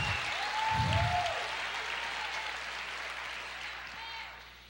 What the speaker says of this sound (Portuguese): Aplauda o Senhor, diga aleluia